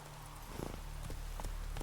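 Horse hooves clip-clopping in the video game The Witcher 3, a few soft, evenly spaced hoof hits under a steady background of game ambience, fairly faint.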